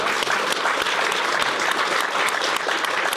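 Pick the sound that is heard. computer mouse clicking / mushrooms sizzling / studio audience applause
studio audience applause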